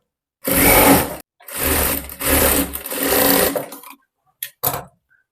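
Sewing machine stitching a strip onto a blouse, four sustained whirring runs separated by short pauses, then two brief final bursts, loud and close with no talk.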